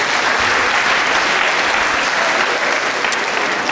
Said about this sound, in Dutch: Uw applaus voor het departementshoofd PXL Education,